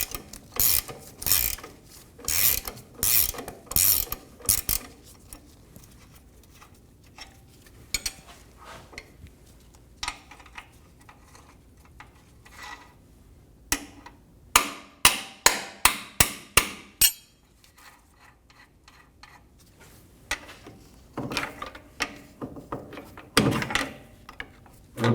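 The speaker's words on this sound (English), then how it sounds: "Hold the head of the bolt and remove the nut." Wrench working loose and removing the shock bolt nut on a 2019-2025 Ram 2500, with repeated sharp ratcheting clicks coming in quick bursts and pauses, plus metallic clanks of the tool against the nut, close and fairly loud.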